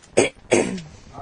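Someone clears their throat twice in quick succession, a rough close-up hack followed by a longer rasping one, with no talking.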